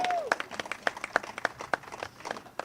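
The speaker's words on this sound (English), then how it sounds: "Let's have a big celebratory applause." A small crowd claps in celebration at a library groundbreaking ceremony: a brief, fairly sparse run of sharp hand claps at a steady quick rhythm, close by and moderately loud.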